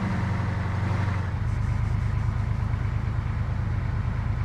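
Vehicle engine from the Arma III video game, a steady mid-pitched rumble that shifts in tone after about a second and runs continuously, fairly loud and without talk.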